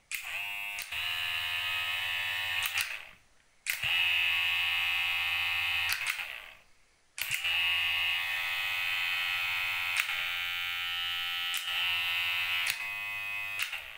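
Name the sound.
Kemei KM 1996 electric hair clipper running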